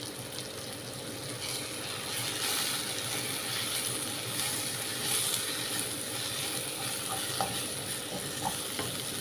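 A spiced masala of pepper powder and fennel powder sautés in a pan for squid roast, giving a soft, steady frying hiss with faint scraping and stirring noises, moderately quiet and close, with no voices.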